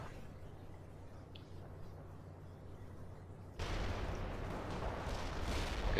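Artillery fire in the World in Conflict strategy game: a steady low rumble of distant shelling, then from about three and a half seconds a louder, denser barrage roars continuously to the end, with no talk.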